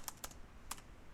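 A few quick keystrokes tap on a computer keyboard, three or four soft clicks within about a second, close but quiet against a faint background.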